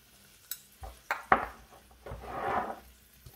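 Garlic and crushed chili going into a pan on the stove: several sharp clinks of utensil on cookware, then a soft sizzle that swells and fades, with no one talking.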